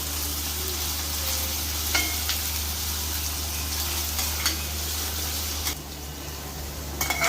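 Spices frying in oil in a pan for a village-style country chicken curry, a steady close sizzle running throughout with a few light clinks of a utensil against the pan, no voices.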